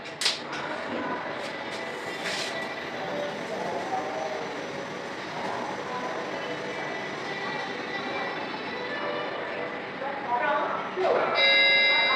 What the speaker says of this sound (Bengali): নয় নম্বর প্ল্যাটফর্ম আর আমাদের ট্রেন দাঁড়িয়ে আছে বারাণসী টু বারেলি